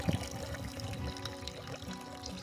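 Water poured into a pot to heat for boiling peas and potatoes for aloo kabli in a village kitchen, a soft continuous splashing trickle close by without talk.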